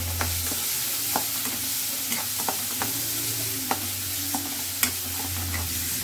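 Onion and tomato fry in a pan with a steady close sizzle, while a spoon stirs them and scrapes against the pan in irregular clicks and knocks.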